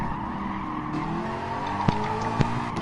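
A race car in Gran Turismo Sport slides and skids, its engine holding a steady drone under a continuous tire squeal, with two sharp bumps or clunks near the end.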